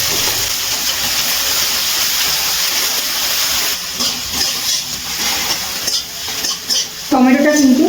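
Small chopped tomato and salt dropped into onions frying in hot oil, a loud continuous sizzle and hiss that dips briefly, then flares with stirring and spatter near the end.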